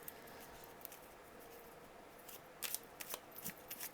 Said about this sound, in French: je ne sais jamais mélanger ces cartes